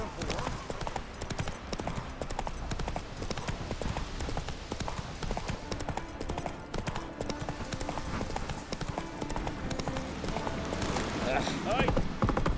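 Hooves of Roach, Geralt's horse in The Witcher 3, clip-clop steadily at a trot beneath game music and ambience, with voices talking over the rhythmic beat throughout.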